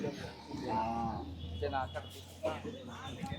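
Cattle moo several times at the Palayakottai native cattle market, long, low drawn-out calls, close by and fairly loud.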